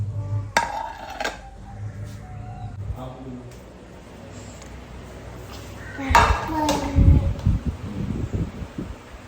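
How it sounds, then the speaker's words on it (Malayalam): Dishes picked up and set down in a home kitchen, clattering and clinking in sharp bursts near the start and again more busily toward the end, over a low steady background hum. "പാത്രം എടുക്കുകയാണ്."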